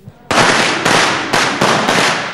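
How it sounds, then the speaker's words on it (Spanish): Firecrackers set off by shepherds during an outdoor village theatre play burst in a loud, rapid crackling string, with several sharp volleys layered over one another for about two seconds. "la gente echa petardos, los pastores echan petardos"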